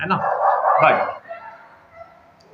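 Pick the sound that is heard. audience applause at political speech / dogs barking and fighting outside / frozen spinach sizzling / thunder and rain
dogs barking and fighting outside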